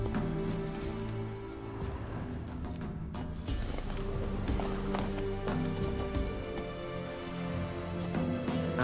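Horse galloping in The Witcher 3, with rhythmic clip-clop hoofbeats continuing steadily throughout over a bed of game ambience and music.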